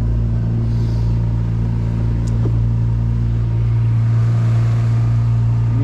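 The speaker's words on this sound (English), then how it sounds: "Then I'll slowly go through the RPMs." An outboard boat motor on a Sylvan boat runs steadily and loud, with a continuous low rumble and hum that holds nearly even throughout, as it is slowly brought through its RPM range.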